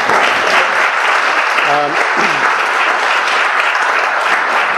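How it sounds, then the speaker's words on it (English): Audience applause for conference organizers, a steady dense wash of clapping filling the whole stretch at close, even loudness, with a brief voice murmuring underneath partway through. "I guess we'll applaud them for a second."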